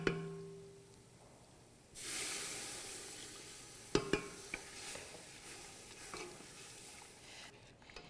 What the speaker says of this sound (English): You want to get the bacon and the onions nice and coated. You're going to go ahead and add the stock.